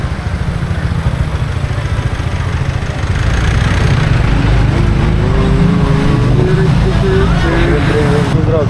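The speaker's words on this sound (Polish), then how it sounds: "jedziemy w trzech na motorze" Motorcycle engine hums and rumbles continuously up close while riding with three people aboard, rising slightly in pitch midway, with people talking over it.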